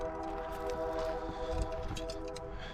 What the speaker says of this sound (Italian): Sento un bel treno da lontano.